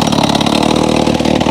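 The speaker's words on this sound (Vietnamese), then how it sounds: "đang khoan cái chỗ mới" An engine-driven rock drill bores a new hole through stone during highland road building. It gives a loud, steady, chugging engine drone with rapid, even pulses throughout, and no one speaks.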